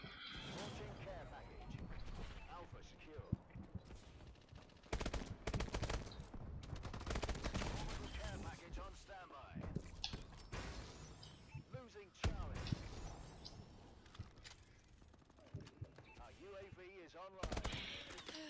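Bursts of automatic gunfire in Call of Duty: Advanced Warfare come in intermittent volleys over about eighteen seconds, mixed with game effects, while players talk over much of it.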